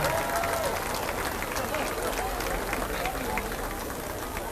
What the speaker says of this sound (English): Come on, a big round of applause.